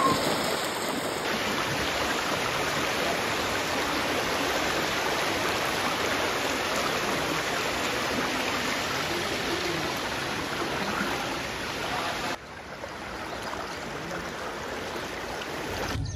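The Godavari river running high in the rainy season, a broad, continuous rush of flowing water heard up close and steady throughout, with a brief shift in tone near the end.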